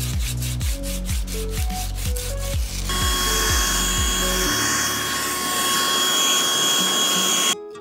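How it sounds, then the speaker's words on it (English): Wooden carved necklace pieces are sanded, first with a rapid run of rhythmic rubbing strokes and then with a steady, loud whirring buzz like a rotary tool. The sound is close and there is no speech. "Now we can just sand those pieces down too."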